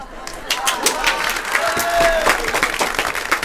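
Audience applause at a small live music gig, a dense, steady patter of many hands clapping throughout, with a brief whistle-like tone rising out of the clatter midway.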